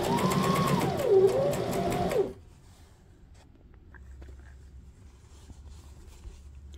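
A Brother SM2700 sewing machine stitches in a rapid, close, even mechanical whir for about two seconds, then stops abruptly, leaving quiet room tone with faint handling sounds.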